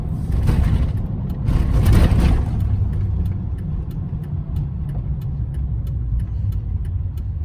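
A truck drives along a road running errands in Draper, Utah, its engine rumbling steadily from inside the cab with a brief swell of louder road noise early on, then a constant even drone.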